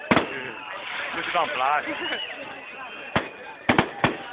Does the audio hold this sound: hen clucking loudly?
no